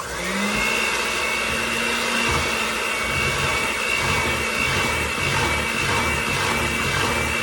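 An electric mixer or blender whirs steadily through sweet potato pie filling, a loud continuous motor drone with a high whine that holds close and unbroken, with no talk.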